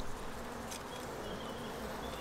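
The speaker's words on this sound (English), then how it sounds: "lots of bees can come and go through here" Bees at the entrance of an Abelo poly hive make a soft, continuous buzzing hum, faint and steady, with a few brief louder passes close by.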